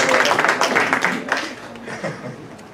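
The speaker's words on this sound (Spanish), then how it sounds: "Un aplauso, Fanny." An audience at a social entrepreneurship event applauds Fanny, a burst of clapping that is strongest at first and then fades, with speech mixed in.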